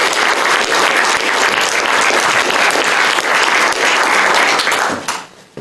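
Loud, sustained audience applause for a poet visiting from Surrey, United Kingdom, at a literary journal showcase reading, dense clapping throughout that tapers off at the end.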